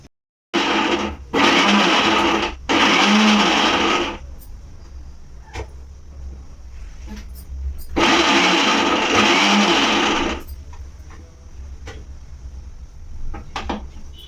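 Kitchen mixer grinder blending onions and ginger into a coarse paste for crab curry, running in loud whirring bursts: two short pulses, a pause, then a longer run, with quiet talk in the gaps.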